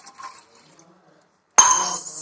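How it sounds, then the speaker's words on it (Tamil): Water tipped into a tea pot set on a lit stove, starting abruptly after a near-silent lead-in with a bright splash that settles into a steady pouring rush, preceded by a faint clink. "அப்புறம் லைட்டாக அரை டம்ளர் மட்டும் தண்ணி ஊற்றிக்கலாம்."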